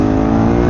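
A Suzuki SV 650 S motorcycle's engine is throttled hard on a steep mountain road, a brief loud, close, continuous engine roar.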